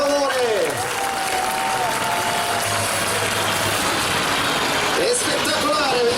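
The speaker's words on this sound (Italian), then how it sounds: "un forte applauso per favore" An air show crowd applauds in a dense, steady wash of clapping that runs throughout, while a voice talks over a public address and a distant jet engine whines up and down.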